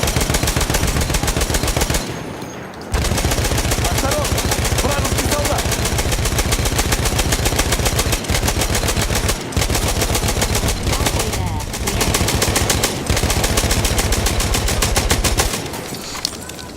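Long sustained bursts of rapid automatic fire from a Perino model 1908 light machine gun in Battlefield 1, loud and close, broken by a few brief pauses, with no speech heard.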